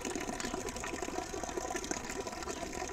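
Water flowing from a natural spring fountain, a continuous, steady rushing splash heard close by without speech.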